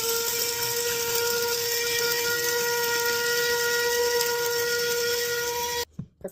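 An espresso machine pulls a double shot of Starbucks coffee with a steady, loud steam-whistle-like hiss and pump hum that runs for about six seconds, then cuts off abruptly into near silence with a few faint clicks.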